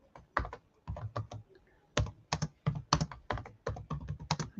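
Rapid, uneven clicking of keys on a computer keyboard, close up, in quick bursts with brief pauses between words.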